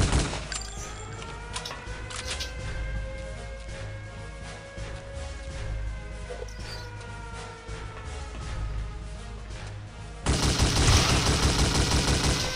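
Gunfire in the first-person shooter Return to Castle Wolfenstein: rapid repeated automatic shots crack throughout over game ambience, growing denser and harsher for the last few seconds.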